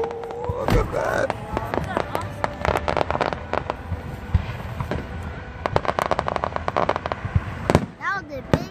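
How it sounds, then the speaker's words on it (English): Fireworks at a Mount Airy Casino July 4th show burst in rapid, loud cracks and booms, with crackling volleys and a whistling rise near the end, while people talk and cheer nearby. "That was a big explosion, Daddy."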